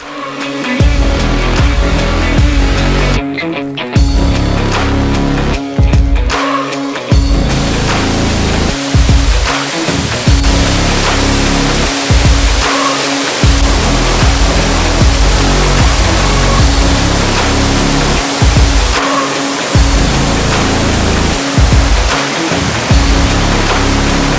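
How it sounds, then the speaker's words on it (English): Hogarth Falls, a small waterfall on a forest walking track in Tasmania, roars as a steady, loud, close rush of water throughout, with a few brief dips and no voices. "Alright guys, that's Hogarth Falls. Easy walk in, only a few steps right at the end. Beautiful day, beautiful little waterfall."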